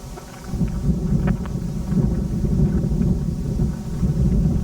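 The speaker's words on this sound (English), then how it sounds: "It's so cold and windy here today." Strong, steady wind roars and buffets the microphone throughout, a low rumbling gusting noise with no voices.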